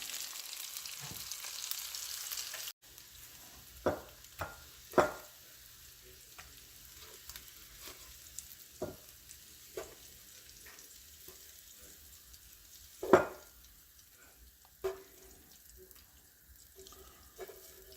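Beef liver frying in a pan, a faint, quiet sizzle under scattered clinks and knocks of utensils at irregular intervals, with no talking.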